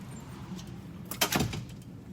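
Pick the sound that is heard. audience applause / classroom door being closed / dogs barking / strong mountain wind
classroom door being closed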